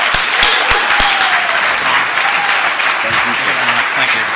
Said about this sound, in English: Please give our closing speaker of the day a warm round of applause